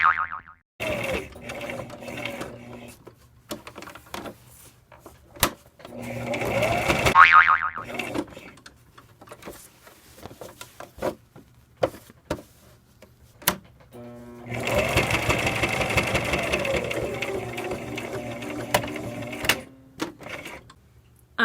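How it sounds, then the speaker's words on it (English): A sewing machine edge stitching a spiral notebook cover, running in several loud, fast mechanical bursts separated by pauses and clicks as the fabric is pivoted at the corners. "I'm done edge stitching."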